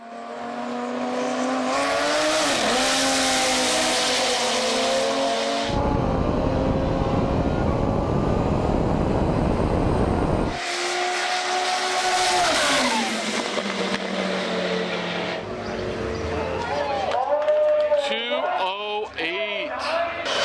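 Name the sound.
twin turbo Lamborghini Gallardo Superleggera accelerating at speed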